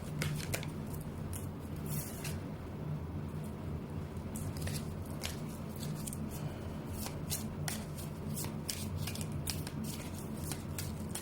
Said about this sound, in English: the Gabrielle Bernstein Spirit Junkie deck, let's see what oracle cards shows up for you, Pisces.